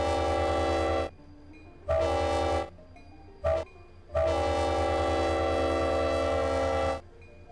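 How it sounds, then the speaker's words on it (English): A locomotive horn blasting loud and close in a pattern of long, short, very short and a final extended blast, each a rich, steady multi-tone chord with abrupt starts and stops. "Here's the horn."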